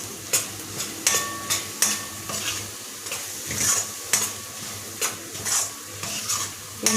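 Masala is stirred into a spicy Kolhapuri chicken rassa curry in a pan, with a steady sizzle of frying and rhythmic scraping and clinks of a spoon against metal, close and clear, no talking.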